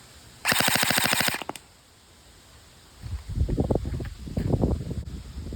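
A burst of full-auto fire from a Novritsch SSE-18 airsoft gun using 0.2 gram BBs, a rapid loud rattle lasting about a second outdoors, followed by low wind rumble on the microphone.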